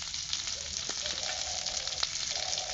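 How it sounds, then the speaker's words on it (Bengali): Onions, green chillies, dried red chillies and tempering spices fry in oil in a wok, giving a steady, close, fairly loud sizzle with a few light stirring clicks. "এগুলোকে একটু হালকা করে ভেজে নেব"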